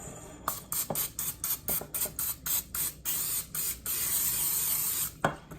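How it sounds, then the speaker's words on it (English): A can of cooking spray sprays into a pan in a quick run of short hissing bursts, then one long continuous spray, followed by a brief final puff. "take some spray Pam or whatever you like and spray"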